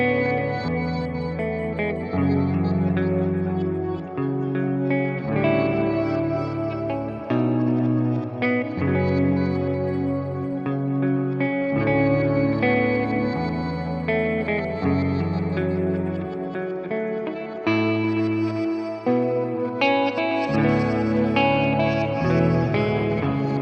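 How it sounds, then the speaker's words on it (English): Clean electric guitar played through a crystal echoes pitch-shifter with reverb and the input gain turned down, sustained chords shimmering with sparkling, high echoing overtones in a continuous wash of sound. "And now I've got this beautiful crystal echoes algorithm mixed in there."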